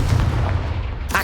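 A booming fire-blast spell in the Hogwarts Legacy video game, one loud deep explosive burst that fills the short moment, followed by a brief crackle at the end.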